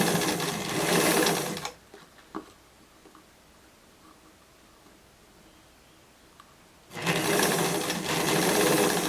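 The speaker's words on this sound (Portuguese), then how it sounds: "E aí é só costurar." Sewing machine stitching a dress runs in a fast, loud whirring burst, stops for a stretch of quiet fabric handling with faint clicks, then whirs again at full speed.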